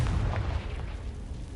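Casting Confringo in Hogwarts Legacy sets off a fiery blast: a heavy, close booming explosion that hits hard at once and then rumbles on, fading slightly.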